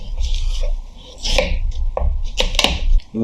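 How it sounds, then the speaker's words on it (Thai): A knife splits a watermelon in half on a basin-style cutting board, giving close, loud crunching and cracking bursts with wet tearing of the rind and flesh against a low background rumble. "ผ่าแตงโมเป็นสองซี่ก่อน"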